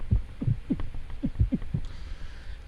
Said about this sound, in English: I need to add a little a heartbeat.